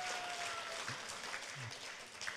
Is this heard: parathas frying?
no